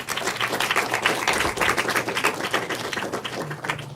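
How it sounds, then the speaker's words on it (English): A studio audience at a quiz-show competition claps in a dense, continuous patter of many hands, loud and close throughout with no voices over it. "let's give him a round of applause"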